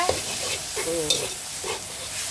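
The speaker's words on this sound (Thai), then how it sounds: "รวนหมูให้สุกนะคะ ผัดมะเขือยาวใส่หมูสับนะคะ" Minced pork stir-fried in a pan with garlic for an eggplant dish, a steady close sizzle broken by spatula scrapes and stirring strokes, with no talking.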